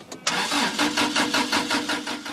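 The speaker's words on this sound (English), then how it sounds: "But the engine just won't catch." A tree-powered wood gas car engine cranks repeatedly in rapid rhythmic pulses after a brief pause, loud and close, turning over without catching and no talk.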